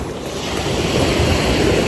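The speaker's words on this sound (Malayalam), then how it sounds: "നല്ല രസമുണ്ടല്ലേ തിരമാല അടിക്കണ കാണുമ്പോ" Sea waves break steadily on a beach at a river mouth in the evening, a continuous loud wash of surf roaring throughout, mixed with wind buffeting the microphone.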